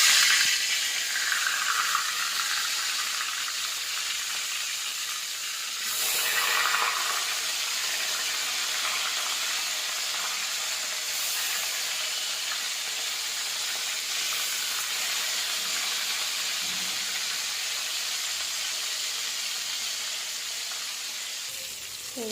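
Snakehead fish frying in hot oil, a steady, loud, close sizzle and hiss that runs unbroken throughout, with a brief swell in intensity partway through and no talking.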